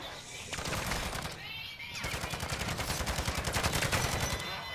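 A sentry gun fires in Call of Duty MW3 Zombies, a rapid, steady stream of close automatic shots that keeps going for several seconds with a brief break, mixed with other game noise.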